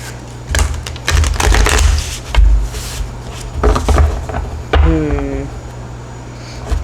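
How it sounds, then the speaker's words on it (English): Tarot cards are shuffled in several quick riffling bursts, close and crisp, with a low hum in the background. "Let's give it a couple more shuffles."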